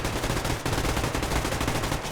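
Rapid automatic gunfire from the video game Survarium, a dense, continuous burst of loud shots with no talk over it.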